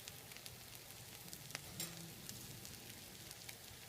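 An omelette sizzles faintly and steadily in a pan while a fork and spatula flip it, with a couple of light scraping taps partway through under the low frying hiss.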